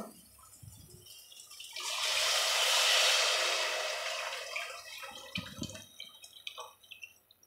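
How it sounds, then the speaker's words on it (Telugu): Soaked tamarind juice is poured into a pan of Nellore-style egg curry, a steady, close liquid rush that swells over a few seconds and then tapers into scattered drips and small clatters, with no talking. "ఇప్పుడు మనం ముందుగా నానబెట్టుకున్న చింతపండు రసాన్ని దాంట్లో వేసేస్తాం"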